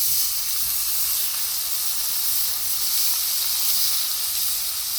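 Fish with curry leaves sizzles in a frying pan, making a loud, continuous hiss of hot oil that stays steady and close with no talking over it.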